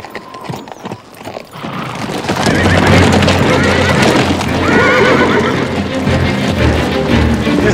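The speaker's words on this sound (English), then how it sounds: "These are the pack horses Josh had with him, aren't they?" Pack horses whinny and neigh loudly over clopping hooves, a dense, close, continuous commotion after a quieter start.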